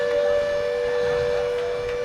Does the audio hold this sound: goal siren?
yes